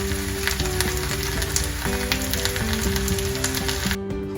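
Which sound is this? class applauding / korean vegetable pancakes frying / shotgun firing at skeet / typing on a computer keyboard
korean vegetable pancakes frying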